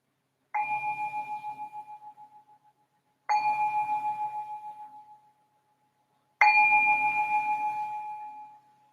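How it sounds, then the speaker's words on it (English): A meditation bell is struck three times, each a clear ringing tone with a pulsing shimmer that sustains and slowly fades over a couple of seconds, the third strike loudest, in an otherwise quiet room. "I'll just ring this bell to signal the beginning of the meditation"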